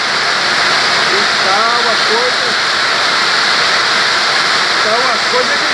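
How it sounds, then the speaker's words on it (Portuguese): A heavy rainstorm downpour during an ice storm in São Paulo's Zona Leste roars loud and steady throughout, a dense wash of rain with faint speech murmured beneath it. "O pau d'água está comendo."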